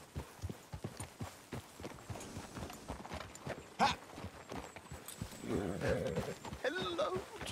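Horse hooves clip-clop in a steady walking rhythm at moderate distance in the video game Red Dead Redemption 2, with faint voices and rustling later on.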